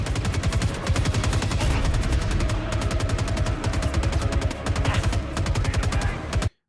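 Rapid automatic weapon fire from the space combat game Squadron 42 sounds as loud, fast, evenly spaced shots in a continuous burst lasting over six seconds, with heavy low-end punch, before cutting off sharply.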